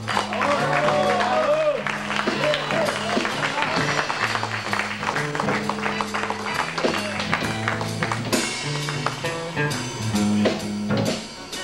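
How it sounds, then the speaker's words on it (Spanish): Audience applause at a blues jam session in Cerveza Club, scattered clapping mixed with instruments playing and a voice over a PA, moderately loud throughout. "Un aplauso, por favor, para Manuel Benici en bajo."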